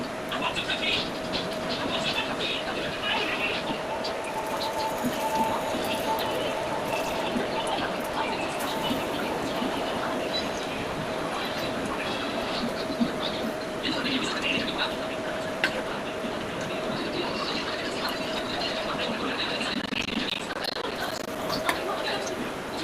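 Cheese-stuffed meal maker balls deep-fry in hot oil, giving a steady hissing sizzle with scattered crackles throughout. A voice can be heard faintly in the background.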